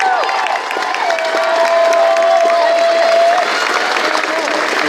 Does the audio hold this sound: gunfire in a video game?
no